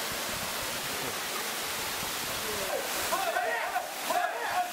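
Cold waterfall jets pour down at Mitsumine Shrine in the Mitsumine Mountains of Japan, a steady, dense rushing roar that fills the whole stretch, close and continuous.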